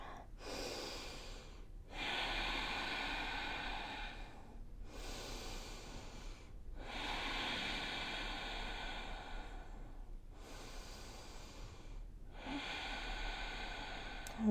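Slow, deep breaths held in a yoga forward fold, about three long inhale-exhale cycles close to the microphone, each breathy and airy, separated by brief pauses, with no talking.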